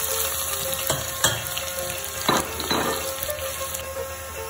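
Kalonji, ajwain and cumin seeds frying in hot oil, a steady close sizzle with soft crackles and a few brief stirring clicks, no voices.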